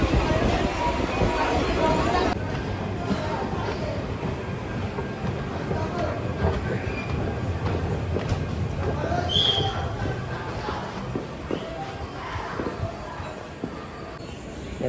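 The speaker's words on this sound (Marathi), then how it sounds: "हे मुंबईची लोकल वाहिनी," A Mumbai suburban local train rumbles and rattles steadily throughout, a continuous loud ride noise with passenger babble and a voice talking over it.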